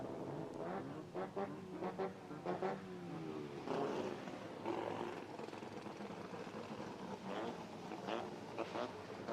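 Race cars in a sim racing video game, engines droning and revving at a steady moderate level with pitch sweeps as they pass, no talk over them.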